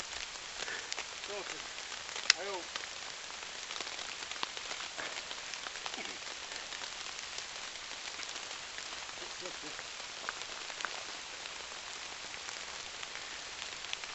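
Steady rain patters on a wild camp shelter by a lake, a constant soft hiss with scattered louder drops, while a faint voice speaks briefly in the background.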